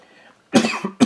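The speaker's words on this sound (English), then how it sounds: "I don't mean to cough when you get up." A man coughs close to the microphone, two sharp, rough bursts in quick succession with a short gap between them.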